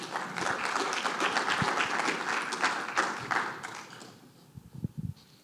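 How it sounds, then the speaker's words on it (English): Audience at a summit on stage gives a big round of applause for speakers walking on, dense clapping filling the room for about four seconds before fading into a few scattered claps. "Please join me in welcoming our speakers on stage with a big round of applause."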